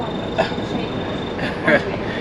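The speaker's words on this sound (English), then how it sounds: "this is the metro line, metro station, metro itself" A Delhi metro train rumbles steadily with a constant mechanical drone and a few brief louder clanks, heard from on board or on the platform, and people talk underneath it.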